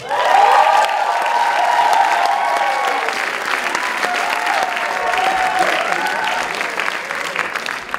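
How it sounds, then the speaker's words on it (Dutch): Loud, sustained applause from a large audience at an award ceremony, steady throughout, with a few cheers mixed into the clapping. "Hartelijk applaus voor de gast hier van vanavond, Peter Tictus."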